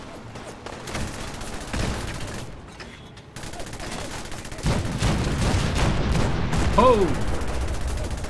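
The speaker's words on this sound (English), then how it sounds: "I want to fire a cannon." Cannon fire in Fallout 4 as a rolling barrage of booming blasts, the heaviest volley arriving in the second half over a noisy battle backdrop, with a brief shout and a whistling tone near the end.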